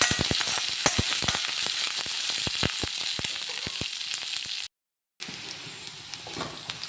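Curry leaves frying in a pan for mango-ginger pickle, with a bright crackling sizzle and rapid rhythmic ticks of stirring, then a brief cut to silence before a quieter sizzle resumes.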